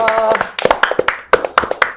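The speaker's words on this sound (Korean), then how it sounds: "박수로 시작하겠습니다" Studio panel on a Korean talk show claps to open the broadcast, a small group giving sharp, distinct hand claps in an irregular burst, with voices mixed in.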